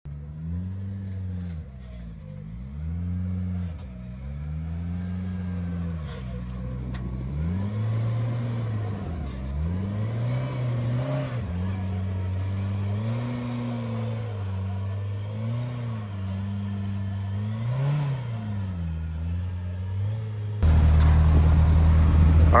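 A Kawasaki Teryx 5 H2 side-by-side crawls over rocks at Trail Hero, its mid-pitched engine repeatedly revving up and easing off in slow surges, close and steady, swelling louder near the end.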